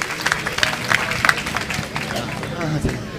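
An audience at a religious question-and-answer gathering claps in a short, loud round of applause amid crowd murmur, with a voice briefly heard over it.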